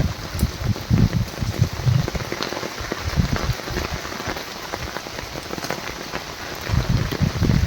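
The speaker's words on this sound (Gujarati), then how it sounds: "પારો બાંધ નાખ્યો ને વરસાદ વધી ગયો જો પેલા કરતા જાજો થઈ ગયો" Heavy rain pours steadily onto the ground and nearby surfaces outdoors, a dense, continuous patter with occasional louder splashes and low rumbling gusts, heard close and loud.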